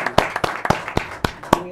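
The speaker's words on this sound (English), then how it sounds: "Let's please give him a round of applause." Scattered audience clapping at a school board meeting for the newly elected board president, a handful of sharp distinct claps rather than a full ovation, close and uneven.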